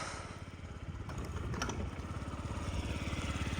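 A Yamaha Jog SA56 fuel-injected scooter from Japan runs at a steady idle close by, its small single-cylinder engine putting out an even, rapid low thrum that holds throughout, with a brief faint noise near the middle.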